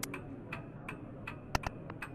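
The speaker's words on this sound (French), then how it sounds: "j'entends clairement du coup l'horloge à droite, donc je me tourne" A clock ticks in the video game Lost in Blindness, sharp, evenly spaced clicks about every quarter second, with a couple of louder ticks standing out, heard alone over a quiet background.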